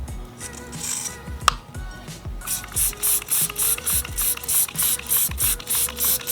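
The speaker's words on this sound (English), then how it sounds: "We are gonna spray some on a microfiber." A quick series of rhythmic spray bursts of Turtle Wax Hybrid wheel cleaner hisses close by onto a microfiber cloth, each pump followed by a short pause, after a few clicks and mechanical rattles.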